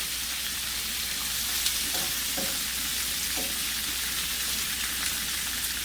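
Smoked rib bacon browns in a pan with a steady, even sizzle and crackle throughout, plus a few soft scraping stirs partway through; no talking.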